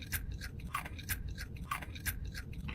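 Close-up chewing of a sandwich with crunchy, crispy bacon: steady, rhythmic crunching bites repeat about every third of a second over a constant background hiss, with no talking.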